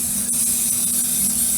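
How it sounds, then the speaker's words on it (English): Cooking spray hisses out of a can in one steady burst, coating a loaf pan for a garden harvest cake, loud and close, with no voices. "We're going to spray it with some cooking spray until there's a nice coating."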